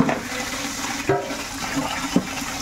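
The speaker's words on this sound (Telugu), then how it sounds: "నీట్గా మనం 2-3 సార్లు కడిగేసుకుంటాం" Water runs steadily as large fish pieces are rinsed in a basin, a continuous close splashing wash with a few brief louder sloshes.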